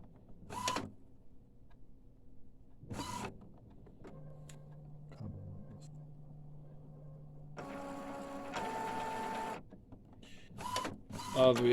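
An Epson SX218 inkjet printer runs through a cartridge reset, with bursts of mechanical whirring and clunks, a sustained motor hum in the middle, then louder grinding carriage movement and closing clicks, close by.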